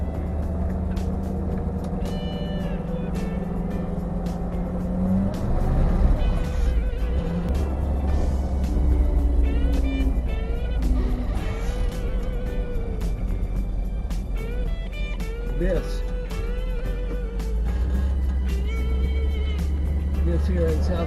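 Car wheels spin without traction in snow during a South Carolina snowstorm, the engine revving up and down in repeated surges while voices talk over the whine.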